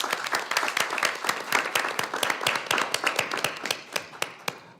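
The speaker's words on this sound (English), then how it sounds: "I think we should definitely give her a round of applause as well." Audience at a school board of education meeting claps in a sustained round of applause, dense overlapping claps filling the room at steady volume before thinning toward the end.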